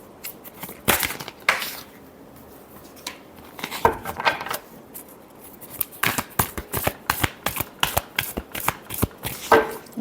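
Tarot cards being shuffled in a deck: a run of crisp riffling bursts, with a fast rattling flurry of card slaps toward the end, close and fairly loud with no talking.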